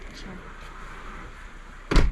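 A door swung shut in a holiday accommodation in Fuerteventura, ending in a sharp, loud thud close by after a quiet stretch of faint room noise.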